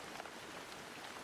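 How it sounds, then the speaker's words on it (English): Steady rain pours down on a street, a soft, even hiss of falling drops that holds constant and fairly faint throughout, with no other distinct sounds standing out. "The man turned and walked away, disappearing into the rain."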